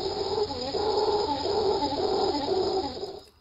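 A mantled howler monkey calls in a rainforest, a series of deep, rhythmic pulsing roars repeating steadily and loudly for several seconds over a constant high insect drone.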